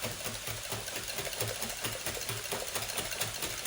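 Steady whisking of six eggs with heavy whipping cream and spices for a breakfast casserole, a fast continuous rhythmic churning close up with no talking.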